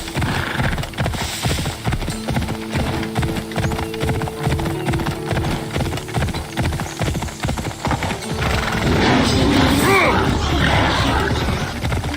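A horse gallops in Assassin's Creed Odyssey, its hooves drumming a steady rapid clip-clop close by, with a brief whinny and swelling game sound toward the end.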